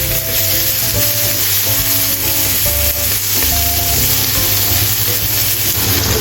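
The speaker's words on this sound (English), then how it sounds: "Add carrots and stir-fry together if you like a richer taste." Tomato and vegetables stir-fried in a pan for a vegan vegetable curry, a loud, steady sizzle close up with faint scraping from stirring underneath, no speech.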